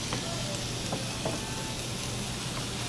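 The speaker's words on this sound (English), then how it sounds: "Oh, I hear the sizzle, that's good" Chicken cut into one-inch cubes sizzles in a pan, a steady, fairly quiet frying hiss with faint crackles throughout and no talking.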